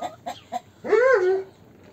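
Young goat kids cry out after their mother has been let outside. Three short, close bleats are followed by one longer, loud, wavering cry that fades out.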